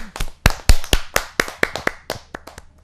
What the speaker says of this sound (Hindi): जोरदार ताली के साथ हम स्वागत करें।